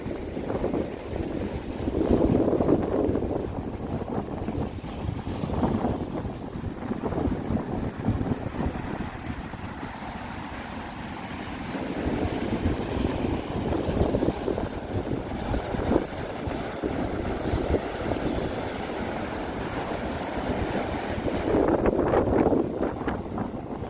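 Sea waves crash against the coastal rocks near Yeonggeumjeong by Dongmyeong Port, a continuous roar of surf under heavy wind buffeting on the microphone, with swells rising every few seconds.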